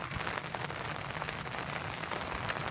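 Heavy rain falls steadily during a nighttime electric fishing outing in the Philippines, a dense, even hiss of drops pattering on surfaces that continues without a break and with no voices.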